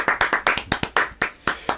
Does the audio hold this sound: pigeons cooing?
no